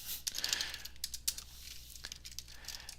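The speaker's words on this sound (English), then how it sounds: "I'm really bad at typing." Quick, uneven clicking of keys on a computer keyboard during a livestream, close and fairly quiet, in short bursts with small pauses.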